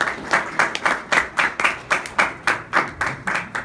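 An audience at an oratorio performance claps steadily, many hands beating in a loud, fairly regular rhythm close by, with no voices over it.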